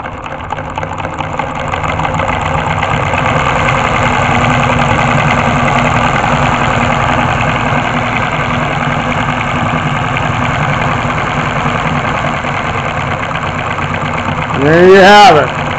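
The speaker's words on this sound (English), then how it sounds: "4-cylinder solenoid motor engine, reciprocating device, converting into rotating energy, motion" A small four-cylinder solenoid engine motor running steadily, a close, even mechanical buzz and rapid clatter of reciprocating pistons, ending with a brief louder whir near the end.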